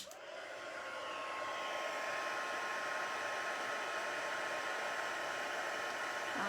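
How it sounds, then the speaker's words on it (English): A heat tool blows steadily as it melts embossing powder on specialty paper, giving a constant, fairly quiet hairdryer-like whoosh that holds level with no talking. "just heat this until the embossing powder melts"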